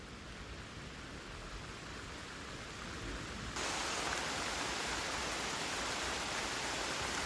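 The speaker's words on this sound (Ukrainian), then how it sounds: "почався нефіговий дощик" Rain begins falling outdoors on a river during a predator fishing trip, a soft hiss that suddenly thickens into a louder, steady broadband patter of drops, continuous and even with no voices.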